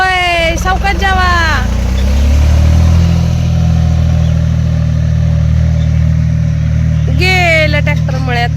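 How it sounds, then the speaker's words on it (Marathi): A tractor engine idles steadily and then pulls away toward the farm fields, a loud, continuous low rumble heard close up; people talk over it at the start and again near the end. "गेलं ट्रॅक्टर मळ्यात."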